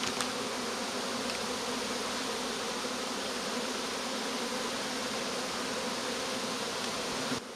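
A thick, unbroken buzz of honey bees swarming over an open hive during spring build-up, loud and close with no voices.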